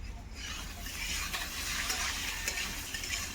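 Chicken frying in a pan with dried chilli, cumin and onion for chow mein, giving a steady soft sizzle with light scraping from stirring.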